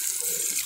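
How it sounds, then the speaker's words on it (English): Water runs steadily from a tap into a sink as hands are washed in a cafeteria, a continuous close hiss with no talk. "So I'm gonna wash my hands right here."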